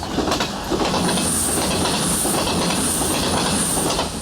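A train runs over British railway track close by, producing a loud, continuous rumble with rhythmic wheel clatter and a faint high squeal or hiss held above it.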